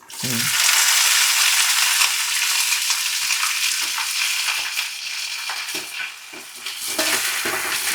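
Small onions (shallots) fry in a hot pan for a mushroom roast, giving a loud, constant sizzle broken by the scrape and clatter of stirring.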